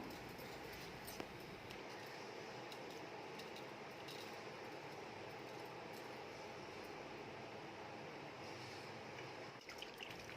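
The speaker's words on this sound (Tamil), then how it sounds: "நம்ம தண்ணியில் நல்லா சுத்தம் பண்ணி எடுத்துக்கலாம்" Fish is rinsed in water, with steady broadband splashing and running water throughout, a continuous wet wash with occasional small drips and clinks.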